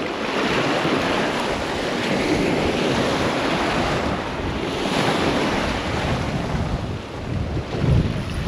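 Strong wind buffets the microphone over the Tbilisi Sea during spin fishing, a steady roaring rush with lapping waves and no voices.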